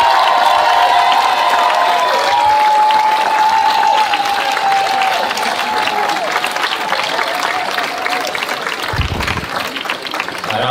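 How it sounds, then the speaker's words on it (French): A stadium crowd at the RoboCup 2023 Kid Size league final in Bordeaux claps and cheers for a local robot soccer team, dense loud applause with whistles and shouts that holds steady throughout. "je vous demande de faire une acclamation à l'équipe Roban"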